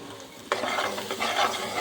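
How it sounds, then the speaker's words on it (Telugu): Egg garlic chili fry with chopped coriander being stirred in a hot pan, a spoon scraping and the mixture sizzling steadily and close, a brief burst of stirring over continuous frying. "నెక్స్ట్ మనం సన్నగా కట్ చేసి పెట్టుకున్న కొత్తిమీర వేసుకొని కలుపుకోండి."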